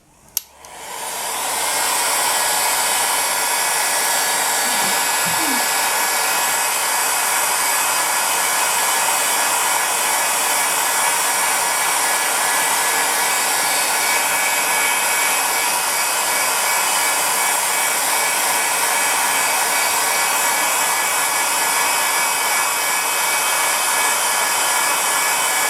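A hair dryer running on its lowest heat and highest fan speed, switching on with a click and rising into a loud, steady, unbroken rushing whoosh that holds for the whole stretch.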